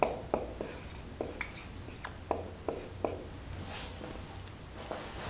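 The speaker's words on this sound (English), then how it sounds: "So we're just gonna write up here," Marker strokes on a classroom board as a teacher writes a single word, a series of short tapping squeaks spaced irregularly, close and fairly quiet with no talking.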